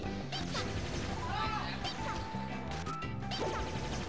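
Forward smash attacks crash and thwack in a Super Smash Bros. match between Marth, Bowser, Pikachu and Young Link, hits landing over dense game music and crowd noise with commentary talking throughout.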